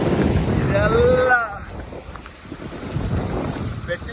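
A fishing boat moves over the water at the start of fishing season; wind buffets the microphone throughout, with a brief voice near the beginning and a low rumble of water beneath.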